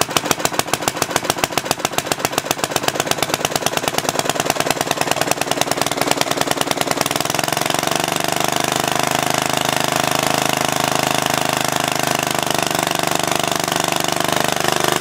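An antique walk-behind tractor engine runs close by, first with fast, distinct loud firing pulses, then settling into a smoother, steady drone.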